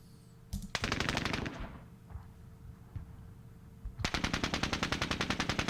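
Rapid bursts of machine-gun and rifle fire in the Squad Battles Winter War wargame, loud rattling volleys separated by a quieter stretch with scattered shots, then a dense sustained burst at the end.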